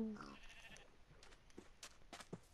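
Sheep bleating in the Minecraft video game, a couple of short nasal bleats mixed with game sound effects and a faint background hum, fairly quiet and brief.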